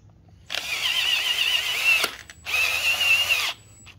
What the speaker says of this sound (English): Take the screw already with the power tool.